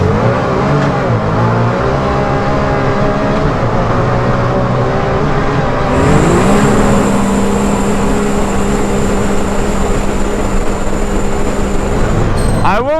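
Can-Am Maverick R UTV driving wide open down a road, loud engine roar with rising revs and shifting pitch, a steady whine joining midway as it pulls hard up close.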